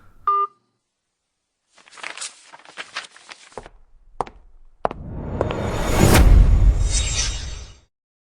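One short two-tone keypad beep at the start, then a pause, scattered rustling and knocks, and a rising whooshing rush.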